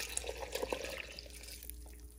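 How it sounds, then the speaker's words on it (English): Milk pours into a blender jug holding apples, oats, almonds and chocolate chips for a summer breakfast smoothie, a soft splashing trickle with light drips that fades toward the end. "And lastly, I'm going to add the milk."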